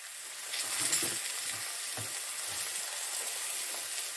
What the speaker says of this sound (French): je fais un peu revenir comme ça mes oignons pendant 5 minutes